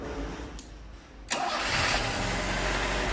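A 1991 Tofaş Şahin 1.6 with a carburetor that runs poorly on petrol: a brief crank, then the engine catches abruptly and settles into a loud, steady idle, heard up close.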